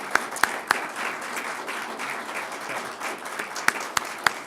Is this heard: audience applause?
yes